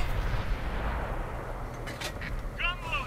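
Cromwell tank cannon firing in the World of Tanks video game on PS4, a heavy low boom that rumbles through the clip, followed by a few sharp mechanical clanks and a ringing tone.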